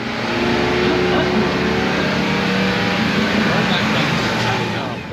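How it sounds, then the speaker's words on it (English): A racing car engine drones steadily and loudly at Barber Motorsports during a Lemons race. It holds a continuous broadband roar with no breaks for the whole stretch. "The car needs to be louder, Steve."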